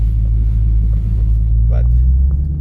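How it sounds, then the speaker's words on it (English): Steady, loud low engine rumble from a 717-horsepower Dodge Hellcat Widebody driving through about four inches of deep snow, heard close and continuous. "this guy is crazy driving his 717 horsepower car in deep snow"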